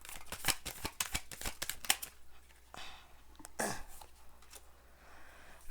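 Tarot cards are shuffled up close: a quick run of crisp snapping riffles, then a few softer slides and taps, fairly quiet with no talking.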